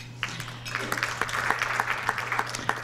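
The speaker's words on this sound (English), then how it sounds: "This is an applause contest." Faint, sparse clapping from a small audience honoring chamber of commerce board members at a civic talk, individual claps picking up over a steady low hum.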